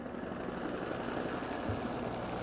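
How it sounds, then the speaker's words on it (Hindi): Cobra attack helicopters fly in formation over a military parade in Islamabad, heard as a steady, broad rotor and engine drone at moderate distance with no speech. "फ्लाई पास्ट में सबसे पहले अशदर शोला फिशां फिजाओं में हैबत की जलगार कोबरा अटैक हेलीकॉप्टर्स की फॉर्मेशन"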